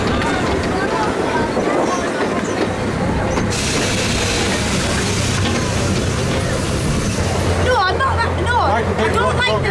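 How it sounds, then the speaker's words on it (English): A passenger train rumbles and clatters around a theme park circuit at Flamingo Land, a continuous rolling noise with crowd babble mixed in and a shift in the sound partway through. "So I'll put in a little bit more footage as we go around here on the train at Flamingo Land."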